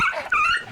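A dog gives a brief, close vocal sound with whining, growl-like tones, over in under a second.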